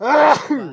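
A single loud sneeze bursts out close by in a quiet room, followed by a groaning voice.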